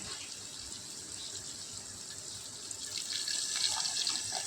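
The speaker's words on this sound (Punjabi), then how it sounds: "ਹੁਣ ਇਹਦੇ ਵਿੱਚ ਆਪਾਂ ਬਿਲਕੁਲ ਥੋੜਾ ਜਿਹਾ ਪਾਣੀ ਐਡ ਕਰਾਂਗੇ" Steady running water splashes and gushes continuously into a cooking pan of gravy, growing slightly louder toward the end, with no voices.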